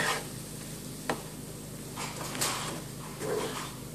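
Tofu scrambled in a hot frying pan, with a continuous close sizzle broken by occasional scraping and stirring knocks of a utensil against the pan.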